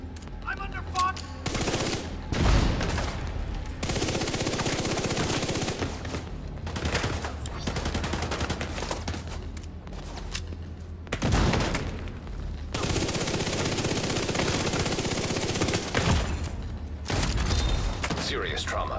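Dense, loud gunfire and automatic bursts from a first-person shooter video game in a federal emergency bunker level, rattling almost nonstop with brief pauses, while an in-game voice speaks at times.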